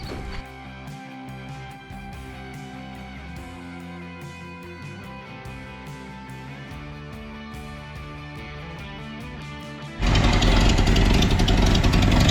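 An old Toyota Land Cruiser FJ45 truck engine with a Weber carburetor and an exhaust leak cranks and catches, running with a rough, uneven idle that rattles steadily, then a louder burst of broadband noise near the end.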